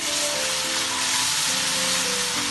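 Garlic ginger paste sizzles and fries in hot oil with browned onions for chicken Bombay biryani, a steady loud hiss running throughout with no talk.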